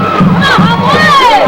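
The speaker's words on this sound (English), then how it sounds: "We got both bands going, both crowds going, everybody on their feet." Crowds at a 1992 Homewood vs Pell City high school football game roar and cheer loudly, a dense wash of shouting voices from many people, with sharp yells rising above the din.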